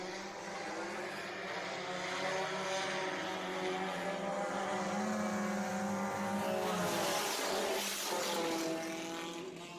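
Race cars in a dirt speedway heat race roaring past together, a dense, droning engine wash that swells as they pass, heard from a distance at moderate volume.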